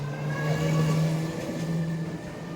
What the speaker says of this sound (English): these guys on their motorbikes are really dangerous